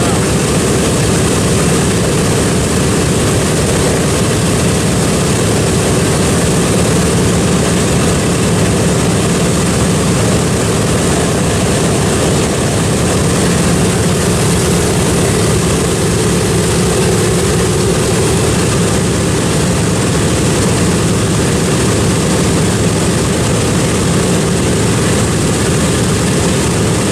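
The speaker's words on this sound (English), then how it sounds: "World War II planes take off like this" World War II propeller planes, including a B-25, take off with a loud, sustained engine roar that fills the whole stretch without a break.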